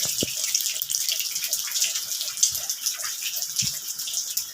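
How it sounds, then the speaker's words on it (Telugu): Rainwater runs and trickles under carts in a flooded buffalo shed during rain, a steady close wash of flowing water with scattered drips and small splashes. "ఇంక బండ్ల కింద కూడా నీళ్ళు వెళ్ళిపోతున్నాయి."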